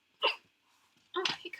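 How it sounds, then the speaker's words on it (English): A person hiccups twice during a Christmas storytime, two short sharp bursts close to the mic separated by a quiet gap, the second followed by a brief breathy tail. "hiccups. Very fitting"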